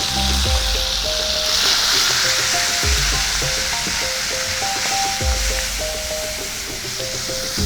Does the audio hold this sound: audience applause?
no